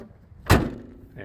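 A single solid thud of a 1988 Lincoln Town Car Signature door being shut, short and fairly loud, followed by a brief quiet moment.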